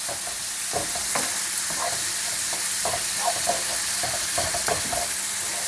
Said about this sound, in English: I'm just going to fry this off for another 30 seconds